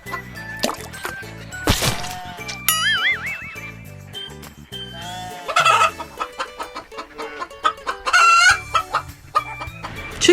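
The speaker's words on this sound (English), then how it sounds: "2 chickens." Chickens clucking and a rooster crowing on a farm, several short clucks and calls in quick succession, close and fairly loud, mixed with light background music and no speech.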